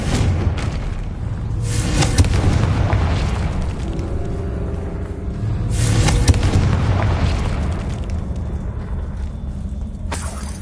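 Confringo explosive spell blasts in a Harry Potter video game, several booming bursts rolling over a dense, continuous rumble, with sharper flares near the start, middle and end.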